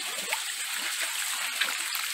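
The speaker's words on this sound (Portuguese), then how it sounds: "Eu vou soltar aqui e dar uma descarga, apenas para vocês verem aí o nível da água que está saindo." Toilet flush water rushing through a 40 mm pipe, a steady, close hiss of flowing water with small splashy bubbles, continuous for a couple of seconds.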